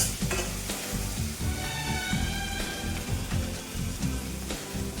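Tomatoes and curry leaves sautéing in a pan for a Kongu senaikkilangu puli varuval, with a loud, continuous sizzle broken by rhythmic scraping and stirring strokes close by.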